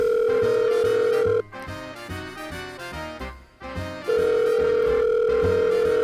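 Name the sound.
telephone ringing while calling a pizza place, from a video game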